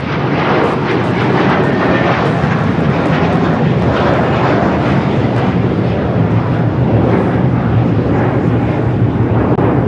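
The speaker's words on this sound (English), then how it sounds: "This is American Airlines 1590 taking off to Charlotte on the A321" American Airlines Airbus A321 taking off from LAX, a loud, steady jet engine roar sustained throughout, heard from nearby.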